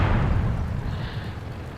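A Soviet heavy tank cannon in World of Tanks fires a single loud, close boom that fades into a rumbling decay over almost two seconds.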